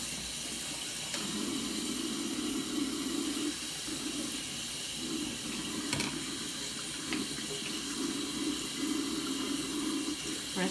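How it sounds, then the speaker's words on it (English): Cold tap water runs steadily over a pepper being rinsed in a kitchen sink, a continuous splashing stream with slight shifts as the pepper moves under it. "Rinse it off with cold water."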